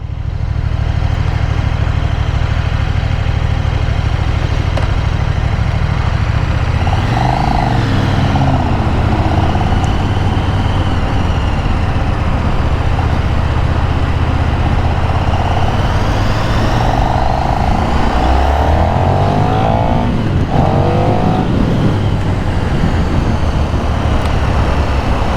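A 2024 KTM 1390 Super Duke R motorcycle engine hums steadily while cruising at about 40 mph in third gear, with loud continuous wind rush throughout and a few brief shifts in engine pitch.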